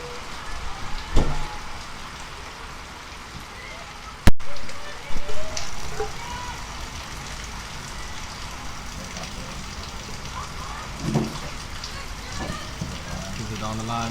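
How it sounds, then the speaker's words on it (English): Rain pelts down steadily as a continuous hiss over an outdoor field hockey match between Stellenbosch teams, with a few sharp knocks and thumps breaking through and faint voices in the background. "even with the rain pelting down"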